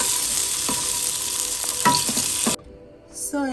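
Eggs and potatoes with turmeric fry on medium-high heat, making a loud, steady sizzle close up, broken by a few scraping stirs. The sizzle cuts off abruptly near the end, leaving a quieter tail with a brief clink.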